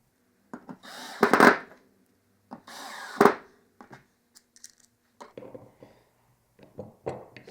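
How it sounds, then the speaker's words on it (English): A power drill drives screws into wood in two short bursts, each a loud whirring spurt of a second or less, separated by quiet handling clatter and soft knocks. "I'm just using the drill to kind of set these in there faster"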